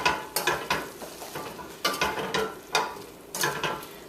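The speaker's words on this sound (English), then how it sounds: "give this a really wicked stir" Cabbage and leftover stewed pork are scraped and turned in a pot in several rhythmic bursts of stirring, each a close clattering swish with soft sizzling between, no speech.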